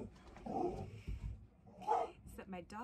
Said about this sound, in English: my dog doesn't like intruders